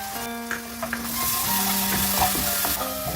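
Yogurt sautéing in a hot pan for dhaba-style paneer butter masala, a brief burst of loud sizzling and bubbling with stirring clatter, no voices.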